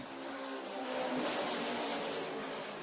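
A NASCAR race car at the Daytona 500 roars past, its engine note easing off as the driver lifts off the throttle, a steady distant drone that swells and then fades.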